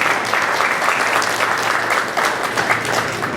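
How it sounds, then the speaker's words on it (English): A crowd gathered for a debate on the Bucks' arena gives Representative Kessler a brief, loud burst of close-up clapping, dense and continuous across its few seconds. "Can we give a round of applause for Representative Kessler?"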